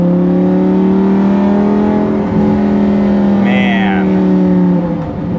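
A 2014 Lamborghini Gallardo LP550-2's naturally aspirated engine screams steadily, its pitch rising and falling through the rev range up to 8,500 RPM, loud and close, with a brief squealing tone partway through.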